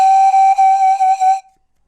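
A pan flute played softly with partly blocked breath gives one steady, breathy sustained tone with a light waver, loud and close, then cuts off cleanly after about a second and a half.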